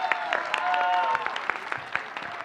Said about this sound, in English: let's have a round of applause for Lakeesha.